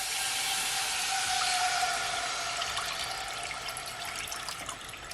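Cooking liquid from pork belly pours into a pot in one continuous close splashing gush that slowly thins toward the end, with no talking.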